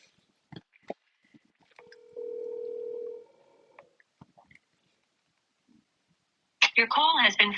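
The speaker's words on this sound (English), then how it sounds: "Your call has been forwarded to voicemail." A phone call's ringback tone sounds as one steady electronic burst of about a second. After a quiet pause, a recorded voice begins speaking.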